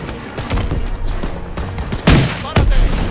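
Rapid WWII gunfire and cannon blasts from the Call of Duty WWII Fortress level, loud dense volleys with two heavy booms, while soldiers shout orders over the battle.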